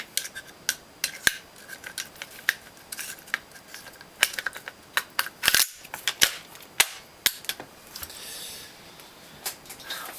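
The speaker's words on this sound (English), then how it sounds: "I'm going to do a test fire" A Viper Tech 2011 M4 RAS gas blowback airsoft rifle is test fired, producing sharp, loud, snappy cracks in irregular single shots and short bursts, some shots close together.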